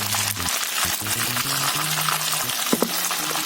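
Steady oily sizzling of chicken wings frying in oil in a pan, with occasional clinks and stirring noises, close up and continuous.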